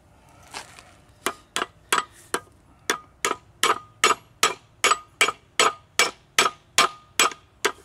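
A steady series of sharp metallic strikes, a ratchet used as a hammer on a Jeep Wrangler TJ axle U-joint about twice a second, close and crisp with no talking.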